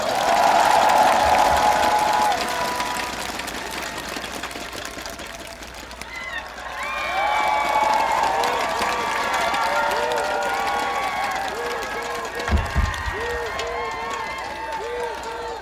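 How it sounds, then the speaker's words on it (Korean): A large crowd at a Daegu campaign rally for Lee Jae-myung claps and cheers as a background roar. A loudspeaker voice talks over it throughout, with a few sharp thumps near the end. "우리 박수 한번 합시다, 여러분"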